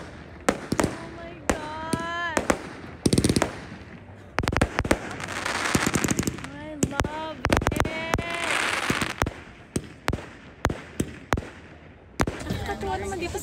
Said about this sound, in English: Super, super, I love fireworks.